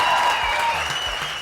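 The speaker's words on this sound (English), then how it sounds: "round of applause for that record." A round of applause for a music record during an interview, with dense clapping and some crowd noise that fades slightly over a short burst, no speech on top.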